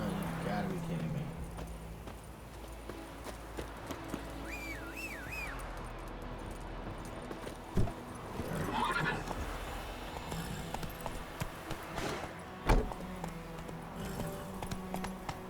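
Roach the horse in a video game, hooves clip-clopping in a steady gallop with a couple of whinnies and sharp neighs, someone talking intermittently over the hoofbeats.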